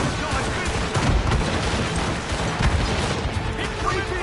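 Ship cannons fire in an Assassin's Creed Rogue naval battle. A dense, loud barrage of overlapping booms and cracks runs without pause, layered with rattling mechanical clatter.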